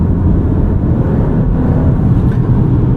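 The 2-liter turbo engine of a 2023 Alfa Romeo Giulia Estrema rumbles steadily from inside the cabin, a loud, even low drone with no talking.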